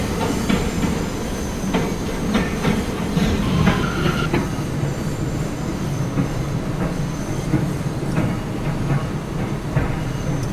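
A Brooklyn-bound R179 M local subway train on the Myrtle Avenue Line rumbles steadily along the tracks, with wheel clatter and occasional squeals over a continuous loud roar throughout.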